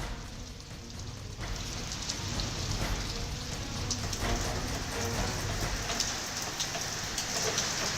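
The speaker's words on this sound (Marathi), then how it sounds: "पाऊस अद्यापही सुरू आहे का?" Steady, moderately loud rain pours down in a town during the monsoon, a dense continuous hiss of drops on surfaces with no voices.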